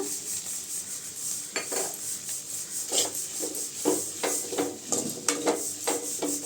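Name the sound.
stirring ridge gourd stir-fry with coconut in a pan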